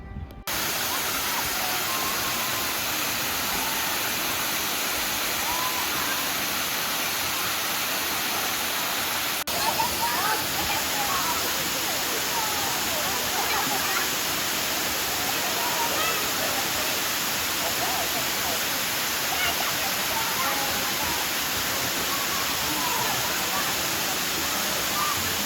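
Steady broadband rush of falling water at Pixley Falls State Park, a constant close roar that continues unbroken.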